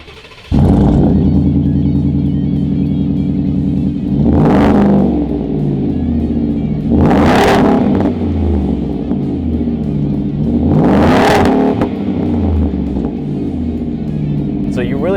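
Ford F150 with an AWE Tuning single side exit cat-back exhaust, a loud deep burble that surges in three rising revving waves between steady rumbling cruising.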